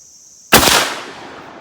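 A single 12 gauge shotgun blast firing a reload of 7.5 shot, a sharp loud crack close by with a short booming decay into silence.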